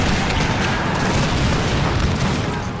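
Cannon fire in the Empire Total War game, a dense continuous barrage of booming blasts and rumbling reports with no clear gaps, loud and steady throughout.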